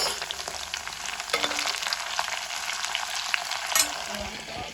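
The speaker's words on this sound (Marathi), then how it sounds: "सो अशें हांव कॉलीफ्लावर फ्राय करून घेता." Cauliflower pieces fry in a pan for gobi aloo sabji, a steady dense sizzle with occasional sharper crackles and a brief stir scrape, close and continuous with no talking.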